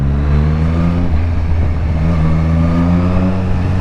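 A 2020 Triumph Street Triple RS motorcycle fitted with a Yoshimura exhaust end can, its engine running loud and close at low revs with a steady throbbing drone and slight rises in pitch.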